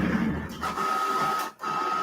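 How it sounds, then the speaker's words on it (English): A printer runs nearby with mechanical whirring and a steady tonal hum, pausing briefly before resuming, fairly quiet. "I have a printer next to me."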